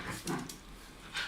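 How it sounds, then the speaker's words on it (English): Dogs growling and vocalizing while playing indoors, with a couple of short yips and grumbles close by, separated by quieter gaps. "all that growling that you can hear, that's the dogs. They're playing."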